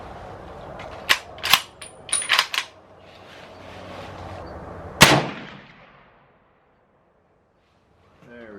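Ruger Go Wild rifle in .300 Win Mag firing at a target range: a few sharp cracks in quick succession followed by a single loud report with a short decaying tail, heard fairly close with no talking.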